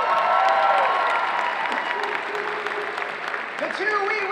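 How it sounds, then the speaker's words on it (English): Audience applause at a cosplay contest ring out steadily and loud through a convention hall, with a voice speaking over the clapping. "Give a round of applause, everyone, in the journeyman category."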